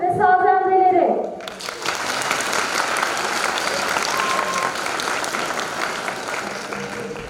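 A concert audience in Yüksekova claps to welcome the Public Education Centre's Turkish music choir and instrumentalists; someone speaks briefly, then sustained, even applause continues for several seconds.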